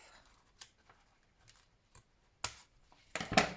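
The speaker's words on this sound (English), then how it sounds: "Get our scissors, trim that off" Scissors trim the edge of handmade journal paper in a few short, separate snips, quiet and close, with the last cuts louder and crisper against a near-silent background.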